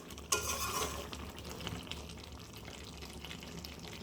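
Spicy chicken curry simmering in a pan over medium heat, a soft steady sizzle and bubbling with a brief stirring clatter near the start, close and fairly quiet throughout.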